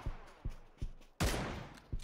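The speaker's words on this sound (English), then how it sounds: "There's more shooting down there." Gunfire in the battle royale video game PUBG: five or six sharp shots spaced about every 0.4 seconds, with one louder, closer blast in the middle, moderately quiet overall.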